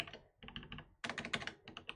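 Keys clatter on a computer keyboard as code is typed, a quick run of close, crisp clicks in two bursts with a brief pause between them.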